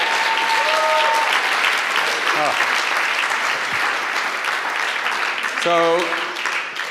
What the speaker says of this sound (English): This round of applause to everybody.